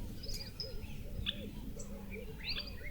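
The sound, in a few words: birds singing outdoors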